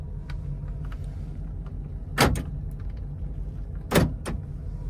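Power door locks on a 1985 Chevrolet K20 Suburban actuate twice, each a sharp close thunk about two seconds apart, over a steady idling engine hum inside the cab.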